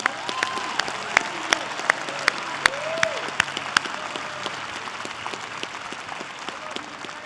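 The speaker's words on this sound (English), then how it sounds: "How about a grand round of applause for these students?" A high school graduation audience applauds the students, sustained crowd clapping with a few sharp, close individual claps standing out, while a faint whistling or cheer rises briefly early on.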